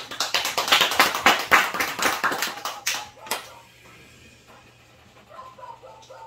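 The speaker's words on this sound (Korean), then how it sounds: "우리 환영의 박수." Welcoming applause from a church congregation during a Sunday worship service, a few seconds of close, moderately loud clapping that quickly fades into quiet room tone.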